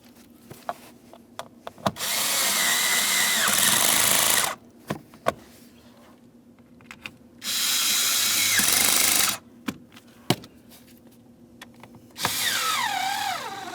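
A power drill snugs up bolts on the HVAC blower motor assembly of a 2007-2014 Ford Edge, whirring in three loud bursts of about two seconds each, separated by quiet pauses and small clicks.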